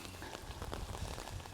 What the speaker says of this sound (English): The rain is fine.